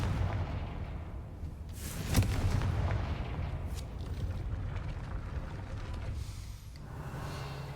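A Confringo blast spell in the video game Hogwarts Legacy, heard as a loud booming burst with a rumbling, roaring wash that lingers after the explosion.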